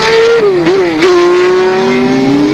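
Racing cars at the 1970 Sebring 12 Hours endurance race roar loudly and close, the engine note dipping and rising through gear changes before settling into a sustained high drone, with no voices.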